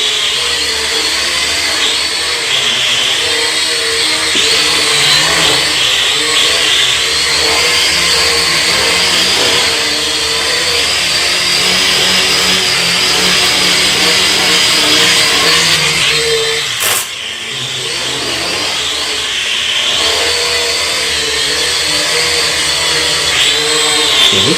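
A JJRC H31 quadcopter drone flies indoors in a tight space, its motors giving a loud, steady high-pitched whine that holds throughout with a brief dip near the end.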